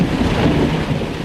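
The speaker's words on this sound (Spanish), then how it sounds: "Todo el mundo hablaba de la violentísima tormenta de rayos y truenos que hubo esa noche." Thunder from a thunderstorm rolls loud and continuous over heavy rain, a deep dense rumble with hiss spread across the whole stretch and no voices.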